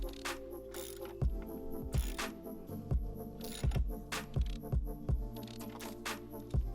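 A bolt holding a fuse box is tightened down with a ratchet, giving a run of sharp metallic clicks and knocks in an irregular rhythm over a steady low hum, close up with no talking.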